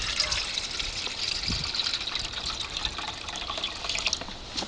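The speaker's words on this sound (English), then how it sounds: "we're going to take our canteen and we're going to fill water into the bottom of the pan" Water pours steadily from a canteen into the bottom of a metal biscuit pan, a continuous soft splashing trickle at close range, with no talk.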